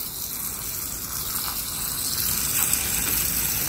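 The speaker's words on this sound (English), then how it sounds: "And now I'm just gonna cover everything with water." Water gushes steadily into a plastic container of banana and onion peels, a continuous close hissing pour that swells slightly toward the end, with no voices.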